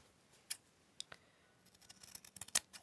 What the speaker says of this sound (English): And then you just take some scissors.